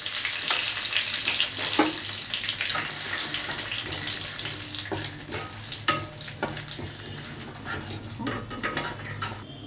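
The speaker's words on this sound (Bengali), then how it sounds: "তেজপাতা দিলাম, লঙ্কা আর জিরে দিলাম।" Bay leaf, dried chili and cumin seeds crackle and sizzle in hot oil for a Bengali potato-cauliflower dum, a steady close frying hiss broken by sharp spluttering pops throughout.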